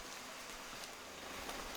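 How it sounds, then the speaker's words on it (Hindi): Light rain falls steadily outdoors in Chiang Mai, Thailand, a soft, even hiss of drops close by with no talking. "धीमी धीमी बारिश हो रही है"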